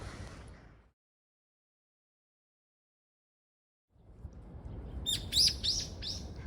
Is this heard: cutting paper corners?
no